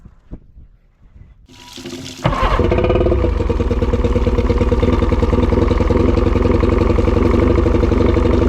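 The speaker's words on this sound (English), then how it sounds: "every time you take the boat out, especially in the salt water, you need to run the motor" An outboard boat motor being run after a saltwater trip starts after a quiet moment and then runs steadily, loud and close with a throbbing, watery churn and no talking.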